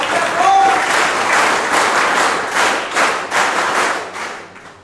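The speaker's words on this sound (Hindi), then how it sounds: "प्लीज जोरदार तालियों के साथ स्वागत करें माननीय टी.एन. थपलियाल प्रिंसिपल सर का।" A crowd of students gives loud, sustained applause to welcome the principal at a school welcome ceremony, close and full, swelling in waves before tapering off at the end, with faint voices underneath.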